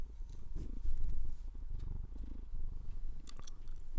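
A cat purrs close to the microphone, a steady low rumbling purr with a few small shuffles and mouth sounds, no talk.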